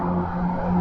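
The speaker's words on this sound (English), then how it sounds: "I got a loud car." A loud car engine rumbles close by in a brief, steady burst.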